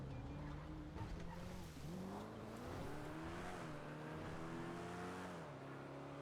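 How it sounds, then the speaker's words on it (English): A car drives past in the NoPixel role-play game, a revving engine whose pitch climbs and dips as it moves by at close range, with no talking over it. "The fuck was that car?"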